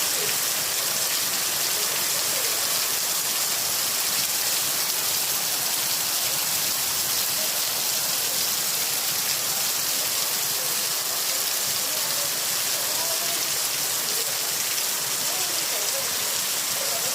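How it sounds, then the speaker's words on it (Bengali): Heavy rain pours down steadily in a dense, even hiss that stays loud and unbroken throughout, with no voices over it. "অসম্ভব সুন্দর বৃষ্টি, অসম্ভব।"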